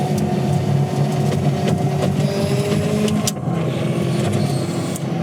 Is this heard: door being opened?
no